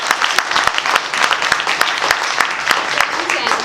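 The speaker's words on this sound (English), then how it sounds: "by a show of applause, can I hear if you're passionate about academics?" A school-meeting crowd answers a call for applause with lively, uneven clapping, individual sharp claps standing out within the steady patter throughout.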